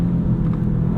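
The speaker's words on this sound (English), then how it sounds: "Engine sounds pretty good too." A 2022 Volkswagen Jetta GLI with a 6-speed manual idles with a steady low rumble and hum, close and constant throughout the short stretch.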